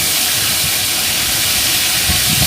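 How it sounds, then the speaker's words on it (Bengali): Pieces of rui fish sizzle in hot oil, making a loud, continuous hissing crackle with no voices over it. "আমি মাছটি ভেজে নিচ্ছি।"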